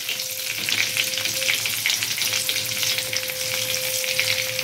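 Whole cumin, bay leaves, dried chilli and cardamom sizzling in hot oil, a steady, close, crackling fry with a faint constant tone running under it.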